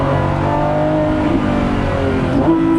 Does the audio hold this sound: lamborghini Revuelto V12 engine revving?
yes